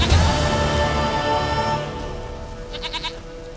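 A goat in The Witcher 3 gives a long, loud, wavering bleat, followed by a shorter, quieter trembling bleat.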